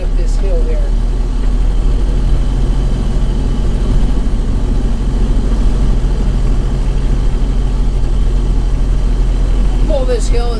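A 1931 Ford Model A Deluxe Pickup climbs a hill, its old four-cylinder engine droning steadily and loudly under load with a constant low rumble and rattle, and no gear changes or pauses.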